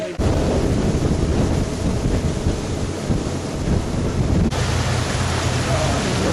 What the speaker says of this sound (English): The waterfalls are coming down the river.